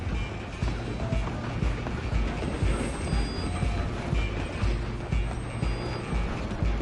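A train rumbles along the tracks in the Red Dead Redemption 2 video game, a continuous low, heavy clatter and roar with rhythmic wheel thumps, steady and fairly distant beneath faint background noise.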